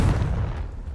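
Confringo fire spell blast in Hogwarts Legacy, a single heavy, close boom with a deep low thump that quickly decays into a fading rumble.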